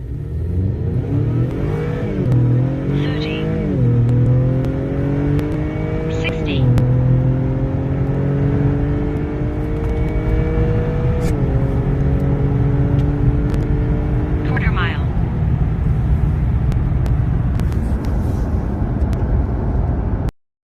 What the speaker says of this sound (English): Put it to the floor from a dead stop.